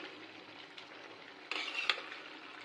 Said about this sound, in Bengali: এবারে আমি অ্যাড করব ভেজে রাখা চিংড়ি মাছ, দিয়ে ভালোভাবে নাড়াচাড়া করিয়ে নিব